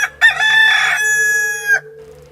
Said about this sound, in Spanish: Enseguida cantó el gallo.